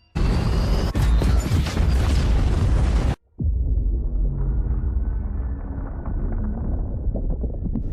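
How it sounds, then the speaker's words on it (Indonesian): Huge explosion in an underwater film as a nuclear core detonates in a deep-sea station, a loud sustained roaring blast that cuts to a brief silence, then a long heavy rumble with low tonal drones. "Dan sebuah ledakan besar pun terjadi."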